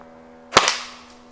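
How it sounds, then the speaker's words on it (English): Pocketshot slingshot firing a 60mm steel ball, a single sharp snapping crack up close with a quick second slap, fading out over a faint steady hum. "you can also shoot bigger ammo, like this 60mm steel ball"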